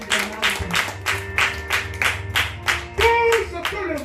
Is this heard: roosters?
no